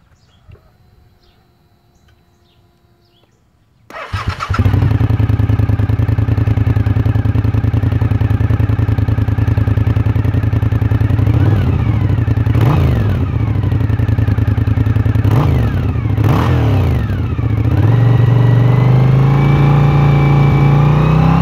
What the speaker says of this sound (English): So let me start this thing up and we'll hear how the stock exhaust sounds.